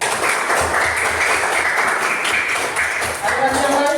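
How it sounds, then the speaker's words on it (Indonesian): A junior high school class claps together, a broad wash of applause held steadily across the moment, fairly loud and close, with some voices mixed in underneath. "Tepuk tangan dulu."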